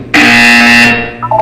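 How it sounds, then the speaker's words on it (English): A loud electronic buzzer from the video game Portal 2 sounds once for about a second, a steady harsh tone that cuts off cleanly, followed by brief faint chirps. "You will hear a buzzer."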